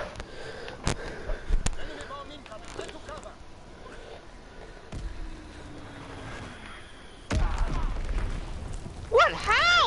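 Several sharp booms from bombs in the Call of Duty WWII video game, abrupt blasts scattered through the clip among game effects, with a louder burst near the end.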